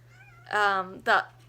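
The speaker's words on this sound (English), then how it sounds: "oh my gosh, my cat." A cat meows twice in quick succession, close and fairly loud, the first call long and drawn out, the second shorter, over a steady low hum.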